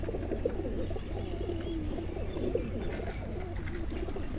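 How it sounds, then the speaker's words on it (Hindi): Breeder pigeons on a rooftop coo continuously in a soft, low, overlapping murmur, several birds close by with a steady hum of background noise and no talking. "ये छत से जो मैं आपको दिखा रहा हूँ ये कबूतर"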